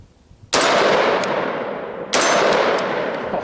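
Two loud, sharp rifle shots from a 7.5-inch short-barreled AR15, about a second and a half apart, each with a ringing tail and echo outdoors on an overland shooting course.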